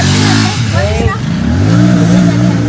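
A motorcycle engine runs and revs up close with a steady low drone, while voices talk over it throughout.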